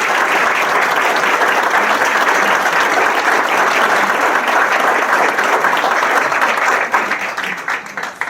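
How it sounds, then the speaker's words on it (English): Sustained applause from a crowd at a Morris County oath-of-office ceremony for elected officials, loud and dense throughout before thinning out near the end. "I would ask if I could for a round of applause for both Stephen Shaw and Deborah Smith."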